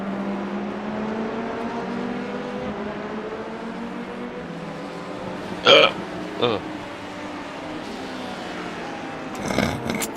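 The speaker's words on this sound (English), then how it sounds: "It's my hiccups." A single sharp hiccup stands out over a steady race car engine drone in a racing game, followed by a smaller second one and a louder gulp-like noise near the end.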